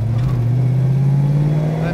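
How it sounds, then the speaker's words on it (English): A 1969 Dodge Charger with a 440 V8 burbles through its exhaust while driving, a loud steady low drone that slowly rises in pitch, with someone talking over it. "She's got an awesome exhaust system on her, man. That 440 is just making those pipes dance."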